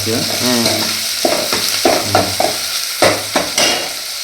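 Chopped onions and tomatoes sizzle and fry in a pan while being stirred, with scraping strokes and crackling bursts recurring every half second or so, loud and close, with no talking.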